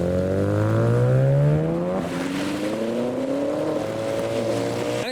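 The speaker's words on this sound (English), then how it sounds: "But next is an RX-7 departing" A modified Mazda RX-7 pulls away from a car show in heavy rain, its engine note climbing through rising harmonics, loud and close, then settling into a steady drone over the hiss of wet spray.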